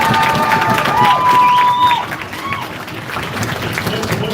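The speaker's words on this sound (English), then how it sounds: "We clap" Audience at a Terrifier horror film panel at the Astronomicon convention clapping and cheering, a dense crowd roar with applause that is loudest at first and then eases, mixed with voices.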